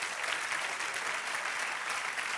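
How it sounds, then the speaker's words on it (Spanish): A church congregation claps together in a loud, dense burst of applause, sustained and even for a couple of seconds, with no voices. "Dale un aplauso al Señor entonces."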